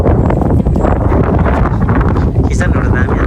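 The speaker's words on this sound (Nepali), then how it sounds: "देउरालीमा चाहिँ यसरी बतास चल्छ" Strong wind gusts across an open hilltop stone spot at Deurali in Kirat Park, Ilam, a loud steady roar buffeting the microphone for the whole stretch with no break.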